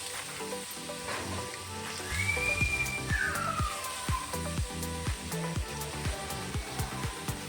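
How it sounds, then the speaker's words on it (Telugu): Grated carrot for carrot halwa sizzles in a hot pan, a steady close frying hiss with rhythmic stirring clicks, while a faint whistle-like tone drifts through partway along. "మనం తురిమి పెట్టుకున్న క్యారెట్ని అందులో యాడ్ చేసుకోండి."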